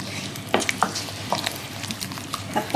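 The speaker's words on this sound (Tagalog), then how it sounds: "At haluin lang din." A spoon stirring homemade sambar in a pot, giving soft scraping and clinking strokes over a steady simmering sizzle, close and alone.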